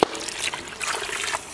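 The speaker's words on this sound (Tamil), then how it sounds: "புளிதண்ணி சேர்த்துக்கலாம்" Tamarind water pours into crab curry, a soft steady trickle of liquid running through most of the clip, fairly close and moderate, with no talk over it.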